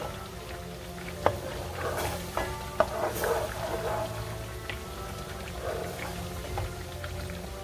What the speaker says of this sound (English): You wanna keep stirring that.